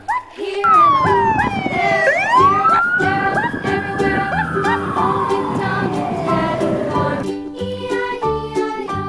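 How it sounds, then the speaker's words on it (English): A loud police siren wails and sweeps up and down close by, with a short yelp at the start and traffic noise underneath. "police car."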